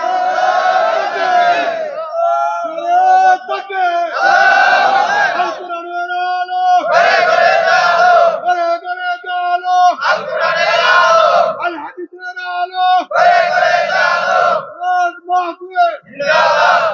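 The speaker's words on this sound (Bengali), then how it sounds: "জোরে একটু তাকবীর দেন তো" A large crowd loudly chants the takbir in unison at a Bangladeshi religious sermon gathering, with several powerful rising shouts repeating in a steady call-and-response rhythm and brief pauses between them.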